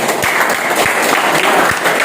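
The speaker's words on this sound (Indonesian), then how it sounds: "Ya, oke, tepuk tangan." Classroom applause from students during a lesson, a short burst of steady clapping filling the room, fairly loud and close.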